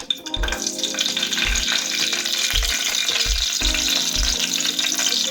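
Chopped green chillies drop into hot oil already holding peanuts and cumin for a tomato egg curry, setting off a loud continuous sizzle and crackle, with repeated low thumps from stirring in the pan.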